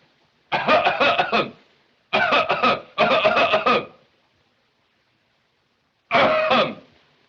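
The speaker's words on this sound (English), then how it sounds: "do not interfere with my coughing. I cough when I want to." A man coughs in four harsh, raspy bursts in a 1929 film, three in quick succession and one after a pause, loud and close, with silence between.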